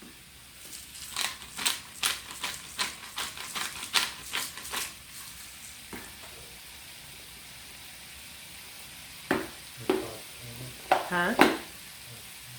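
Ground meat cooks on a PowerXL smokeless grill, heard as a run of sharp scraping, stirring strokes over a steady low sizzle, with a brief spoken word near the end.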